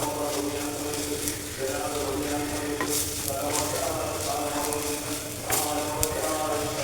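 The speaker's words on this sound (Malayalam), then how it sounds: "പച്ചമണം മാറണവരെ ഒന്ന് വഴറ്റാം." Ingredients for a fish curry sauté in a pan, a continuous close sizzle broken by occasional stirring scrapes and clinks, under a faint voice.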